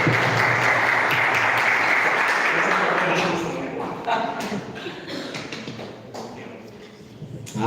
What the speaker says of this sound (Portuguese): vamos aplaudir nosso pastor Jean